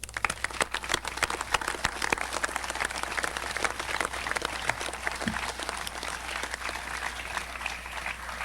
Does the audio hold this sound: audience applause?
yes